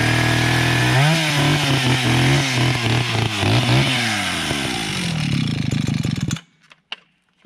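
A chainsaw cuts a fallen tree out of a road at an off-grid property, its loud engine revving and dropping under load through the cut before shutting off into near silence.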